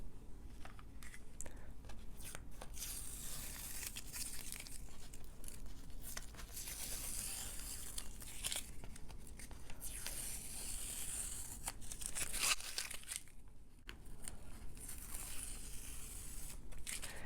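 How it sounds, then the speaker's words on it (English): Masking tape is peeled off watercolour paper in long, crackling tearing strips, loud and close, with repeated pulls and brief pauses between them. "take the tape off and see what it looks like"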